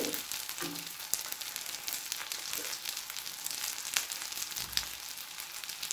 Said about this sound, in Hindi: अब एक तरफ से फ्राई हो चुका है, अब मैंने दूसरी तरफ से उल्टा दिया है